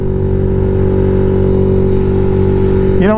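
A modified Royal Enfield Interceptor 650 twin holds a loud, steady high-rev drone close up, bouncing against the rev limiter before the throttle snaps shut and the revs drop sharply.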